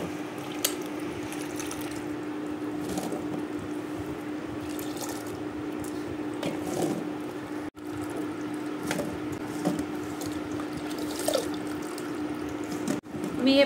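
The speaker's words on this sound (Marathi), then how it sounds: "आणि पाणी निचरायला ह्या टोपल्यामध्ये ठेवू।" Water draining from raw green mango pieces set in a basket for pickle: light, scattered drips and trickles over a steady low hum and background hiss, with no voices.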